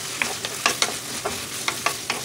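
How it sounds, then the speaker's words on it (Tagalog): Small pieces of pork fry and toast in a pan, a soft continuous sizzle broken by regular sharp scrapes and taps of a spatula being stirred through them. "Una, tinusta ko na yung pork na hiniwa ko ng maliliit."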